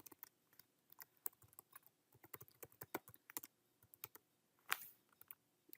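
Quick, quiet computer keyboard typing, a run of light irregular key clicks with one slightly louder keystroke near the end.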